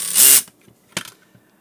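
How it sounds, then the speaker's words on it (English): An electric screwdriver set to its minimum clutch setting drives a screw with a short, loud whirring burst, then a clutch skip and faint mechanical clicks. It is up close, with no talk. "Clutch is where the screwdriver reaches its maximum torque allowed, and then it will start skipping."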